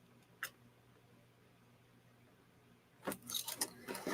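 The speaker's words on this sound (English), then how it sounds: "I'm going to go ahead and put my flower dyes away in my magnetic folder." Metal flower cutting dies are set into a magnetic folder: one sharp click, a quiet pause, then a cluster of light metallic taps and clacks close by with no talking.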